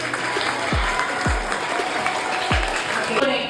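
Steady applause from a crowd fills the whole stretch, with a few low thumps cutting through.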